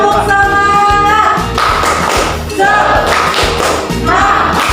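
Students in a sociology classroom play the 'tepuk semangat' clapping game, loud rhythmic group claps and thumping beats repeating in a steady pattern, with voices chanting along over the beat.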